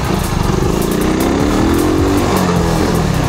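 Motorcycle engine running loud and close during a wheelie, a steady buzzing drone whose pitch climbs and wavers as the throttle rises and falls, continuous with no talking.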